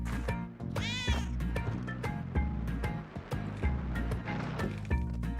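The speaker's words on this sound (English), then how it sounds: "There's the cat." A cat meows clearly in a video game, one drawn-out wavering yowl near the start over a busy backdrop of repetitive thumping music and rushing noise, with no talking.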